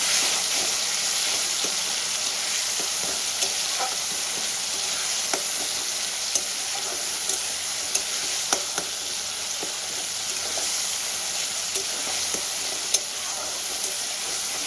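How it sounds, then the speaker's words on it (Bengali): Green chili and garlic paste sautéing in a pan, a steady close sizzle throughout with scattered light clicks of stirring. "আর একটু কাঁচা লঙ্কা আর রসুন আমি বেটে রেখেছিলাম, 2 চামচের মতো দিয়ে দেবো। দিয়ে আমি ভালো করে কষাবো।"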